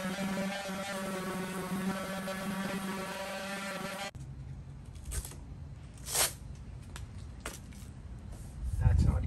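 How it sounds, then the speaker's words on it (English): Sanding down old paint on a truck: a raspy, scratchy rasp in the first half, then quieter intermittent scrubbing strokes with a few sharp scrapes near the end. "But I'm going to sand it down and we'll see how it goes."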